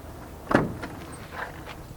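The door of a 1966 Chevrolet Chevelle SS396 swings shut with one solid, close thud, followed by faint, quieter knocks in an otherwise quiet space.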